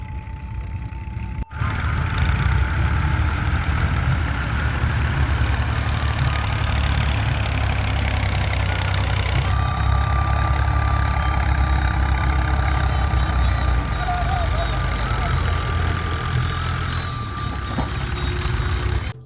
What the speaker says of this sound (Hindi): वहाँ पे काफ़ी ट्रैक्टर आपने देखे होंगे काफ़ी खड़े थे और लोडिंग का वो काम कर रहे थे